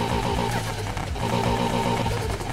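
Stock engine of a Corvette Z06 in the racing game NFS Heat, a steady loud droning rumble with dense harmonic tone holding at a constant level throughout, no talk over it.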